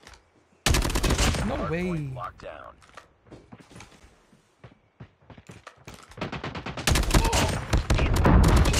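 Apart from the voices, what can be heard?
AK117 rifle gunfire in a video game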